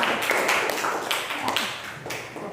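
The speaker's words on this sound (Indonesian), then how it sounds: "Beri aplaus kepada kelompok 4." Classmates applaud a group presentation in a classroom, a short burst of brisk hand clapping, fairly close and dense, tapering off toward the end.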